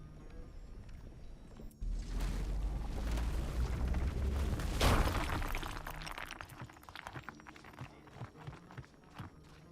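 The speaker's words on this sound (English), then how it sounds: "we can cast Rock Explosion again" Rock Explosion spell blasting an adamantium vein in the Dragonwilds video game: a deep rumbling burst swells in, rises to a sharp crack midway, then breaks into scattered crumbling, clattering debris.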